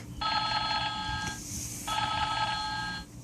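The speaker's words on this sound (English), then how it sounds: "Then there's a phone." A toy Disney Princess tablet phone rings in two loud electronic bursts, each lasting just over a second with a short pause between, heard close up and without any speech.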